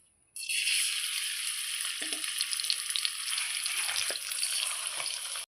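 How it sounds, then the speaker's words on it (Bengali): Hilsa fish heads drop into hot mustard oil and set off a loud, continuous hiss and crackle of frying that holds steady, with a few faint clinks of the utensils. "তেলটা গরম হয়ে গিয়েছে, এবার আমি মাছের মাথাগুলো এতে দিয়ে দিচ্ছি।"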